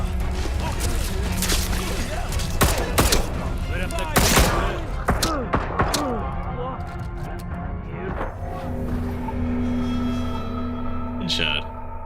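Gunfire rings out in Atomfall, a game set in a nuclear disaster zone in Cumbria: loud, rapid bursts of shots and crashes for several seconds, thinning into scattered hits under talking voices.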